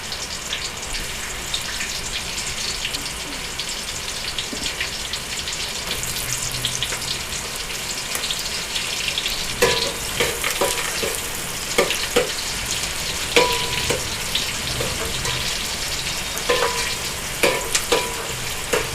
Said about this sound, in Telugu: ఫస్ట్ ఉల్లిగడ్డలు కొని కలుపుకున్నాం.